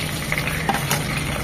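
Katla fish pieces go into hot soybean oil in a generous amount for shallow frying, giving a brief, close, steady sizzle.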